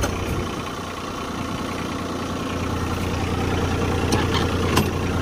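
A tractor engine idles close by with a steady low, throbbing drone and a few faint clicks over it.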